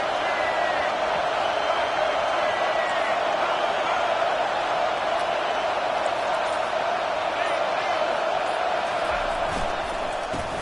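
A packed football stadium crowd roars in a steady, loud, sustained wall of noise, with a broadcast commentator talking over it.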